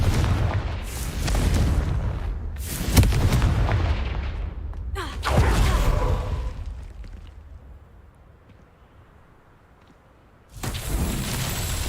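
Confringo spell blasts in Hogwarts Legacy go off as several heavy booming explosions, each a loud burst with a rumbling tail, separated by quieter gaps and a near-silent stretch before a final blast.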